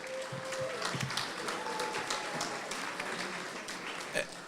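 Applause at a gala dinner, a crowd clapping steadily in a large room with a faint tone and murmur underneath, holding an even level throughout.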